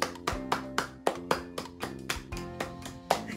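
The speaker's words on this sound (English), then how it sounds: "let's pat it by clapping our hands" Hand claps keep a steady rhythm, about eleven sharp, evenly spaced pats in three seconds, over a musical backing of children's rhyme, as if a group of young learners is clapping along.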